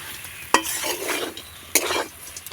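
A spoon stirs kachori filling with peanuts and chopped coriander leaves in a pan, two sharp scraping strokes over a soft background sizzle, close and fairly quiet, with no talk.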